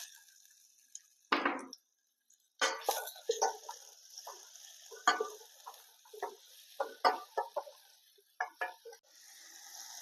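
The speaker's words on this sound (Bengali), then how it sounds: "পেঁয়াজটাও ভাজা ভাজা হয়ে গেছে" Onion frying in a pan with garlic for tomato sauce: a faint steady sizzle runs underneath, broken by intermittent utensil scrapes and clinks as the pan is stirred.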